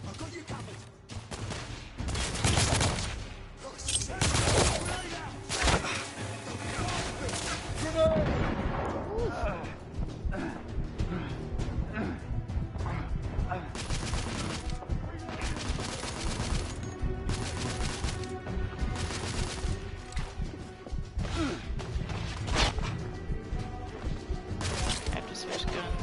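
Heavy gunfire and explosions from The Order: 1886, a dense, continuous barrage of shots and blasts with loud bursts, mixed with game music and voices speaking over the combat throughout.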